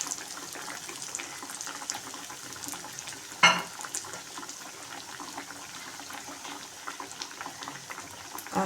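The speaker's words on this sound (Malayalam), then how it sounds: "കുറച്ചൊന്ന് ഫ്രൈ ആയി കഴിഞ്ഞാൽ നമുക്ക് മറിച്ചിടാം." Paneer cutlets fry in a pan, giving a steady, faint, bubbling sizzle that runs throughout with one brief louder knock partway through; no voices.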